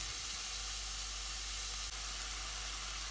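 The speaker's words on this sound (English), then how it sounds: "Once those first few pieces of onion start to sizzle" Onion and garlic sizzle gently in a pan over low heat, a steady soft hiss with no break and no talking, close but fairly quiet.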